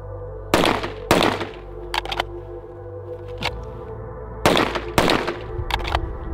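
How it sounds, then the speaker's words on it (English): Pistol shots fired in quick double taps at a target, several sharp loud pairs spaced by short pauses, close and dominant over a steady low hum. "Now that is the cadence that I'm gonna shoot my doubles at"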